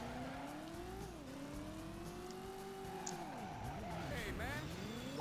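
In the video game Driver, a car does a burnout and handbrake skid: engine drone with sliding pitch sweeps and tire squeal rising and falling continuously, fairly faint.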